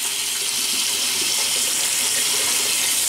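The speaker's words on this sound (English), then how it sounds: "I'm going to run some, warm water over this." Warm tap water pours steadily from a faucet over a shaving brush, a continuous close hiss and splash with no pauses.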